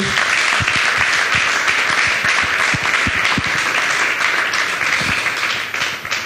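Steady, dense applause from a fashion show audience fills the whole stretch, loud and close, with a few sharper individual claps standing out and a slight fade near the end.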